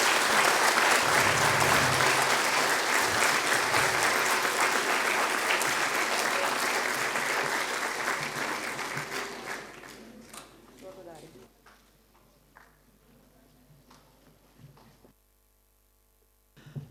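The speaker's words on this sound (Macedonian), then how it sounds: "Уште еднаш ќе ве замолам сите за еден огромен аплауз за нашите најдобри од најдобри." Loud, dense applause from the audience at a school academy ceremony for graduating students, sustained for about nine seconds before thinning into scattered claps and fading to near silence, then a faint sound at the very end.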